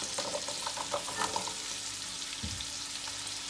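About twenty to twenty-five garlic cloves frying in a pan for a tomato and thyme dish, giving a steady soft sizzle with a few light clinks and scrapes, close and alone without talk.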